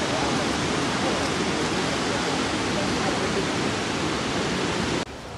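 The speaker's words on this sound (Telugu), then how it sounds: "ఆ జలపాతాల సౌండ్ మామూలుగా లేదు." Jog Falls waterfall in Karnataka roars as a loud, continuous wall of rushing water, unbroken for several seconds before it drops off slightly at the end.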